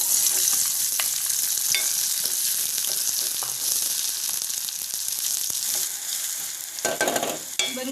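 Onions frying in hot oil in a pan while cooking Sri Lankan style coconut chutney, a dense, steady sizzle that stays loud and close throughout with a few faint stirring clicks.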